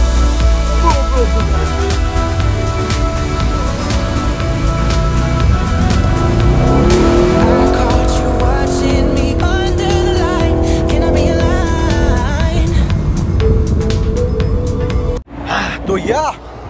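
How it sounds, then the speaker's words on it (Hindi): A car drifts close by, its engine roaring steadily while tires squeal in long wavering tones throughout, ending in an abrupt drop and brief scuffing. "एक ड्रिफ्ट हो जाए"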